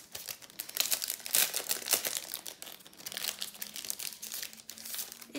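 3D foam adhesive pads are handled for gluing in a paper craft, making close, quiet crinkling and rustling with small bursts of crackle, and no voice over them.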